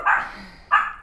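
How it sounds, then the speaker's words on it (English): Dogs barking indoors in the background, two short sharp barks about half a second apart, moderately loud and heard alone without speech. "sorry for the dogs."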